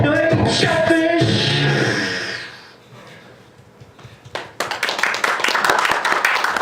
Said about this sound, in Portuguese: as palmas não são gravadas